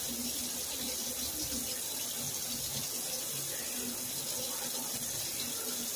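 Running tap water pours steadily into a sink while a rag is rinsed, a continuous close splashing rush with no pauses and no talking.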